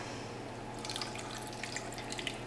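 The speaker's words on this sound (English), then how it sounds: "We're going to add some water." Water being added to a bowl of super firm tofu, a soft steady trickle and pour with faint splashes, close and quiet with no voices.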